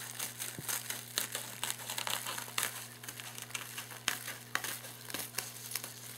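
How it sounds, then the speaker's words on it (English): Scissors cut through bubble wrap with repeated crisp snips and crinkling plastic, steady and close, with no talking. "you're going to take your scissors and you're going to cut"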